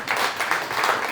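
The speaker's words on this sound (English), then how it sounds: "Round of applause for that." Brief burst of comedy club audience applause, steady mid-level clapping from the crowd with no talk over it.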